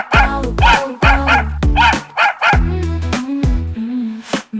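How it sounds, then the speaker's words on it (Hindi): Cartoon-style dog barks from a Hindi nursery rhyme for kids, a rapid series of loud, bright yips and bow-wows in quick bursts, with a short whimpering tone between them. "मुझे कुत्ते ने जगाया"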